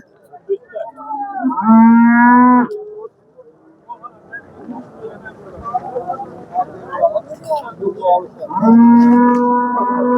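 Two loud, close cow moos at a cattle market, one near the start and one at the end, with people murmuring and livestock shuffling in between.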